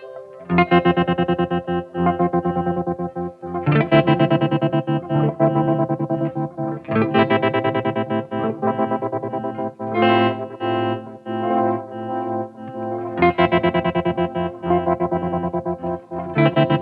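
Electric guitar run through a pitch shifter effect, heavily processed with chorus and distortion, playing loud sustained chords and riffs in repeated phrases with brief gaps, no voices.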